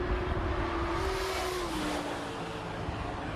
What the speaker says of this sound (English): give you one last view of that car speeding by, because it does look impressive